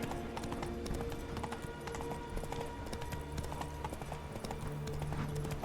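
A horse's hooves beat in Witcher 3: Wild Hunt, a fast, steady clip-clop rhythm close by, with faint game ambience and occasional tonal layers underneath.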